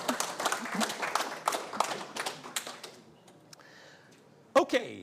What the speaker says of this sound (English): And now you can clap, please.